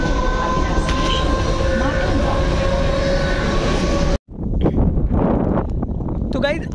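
A Mumbai local train bound for Ambarnath travelling at night, with a loud, steady rumble and rattle of the carriage throughout, a brief dropout, then continued rolling noise with onboard voices faintly mixed in.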